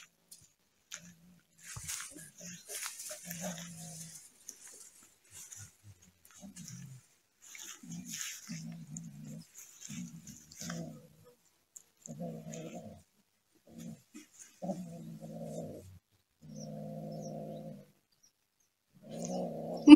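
A dog growls in low, rumbling bursts outdoors, the snarls growing louder and more frequent toward the end, mixed with chewing and brief rustling.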